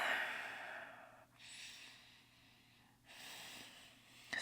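Ujjayi breathing during an advanced vinyasa yoga flow: two long, hissing, ocean-like breaths through the throat, an exhale and then an inhale, separated by a brief pause, close and soft with no talk.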